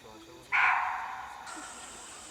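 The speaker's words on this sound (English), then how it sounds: "The barking deer, or muntjac, is a small deer about the size of a sheep whose call sounds surprisingly like a dog barking." A barking deer, or muntjac, in Kanha, India, gives a single sharp dog-like bark that rings and decays over about a second in an open forest setting, with quiet background hiss.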